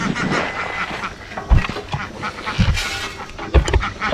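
Ducks quack repeatedly at feeding time, loud nearby calls in short irregular bursts over background farmyard noise.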